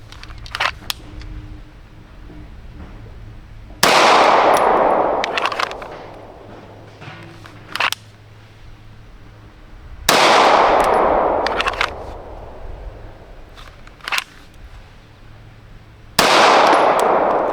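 Three loud, sharp pistol shots from a Wilson SFX9 ring out several seconds apart, each trailing off with an echo, separated by quieter handling clicks and faint background hum.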